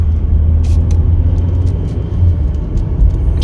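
A 2020 Chevrolet Equinox LT pulling away on a test drive, heard as a steady low engine and road rumble from inside the cabin, loud and continuous, with a few faint clicks on top.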